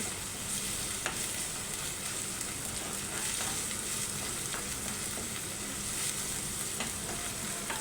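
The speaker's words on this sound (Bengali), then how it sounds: "অ্যাড করে দিচ্ছি এক টেবিল চামচ আদা বাটা এক টেবিল চামচ রসুন বাটা দিয়ে এগুলাকে কিছুক্ষণ কষিয়ে নিচ্ছি" Ginger and garlic paste sautés in a pan for a meat and greens dish, a continuous close sizzle with occasional spoon scrapes and clicks, steady and fairly loud, no talking.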